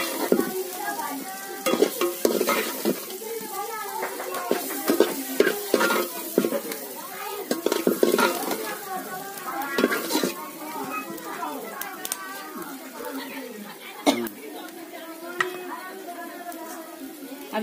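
Radish bhaji stirred and frying in a pan in a Bihar village kitchen, with steady sizzling and repeated scraping strokes throughout, while children play and chatter nearby.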